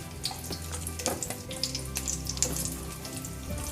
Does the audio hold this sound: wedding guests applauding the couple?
no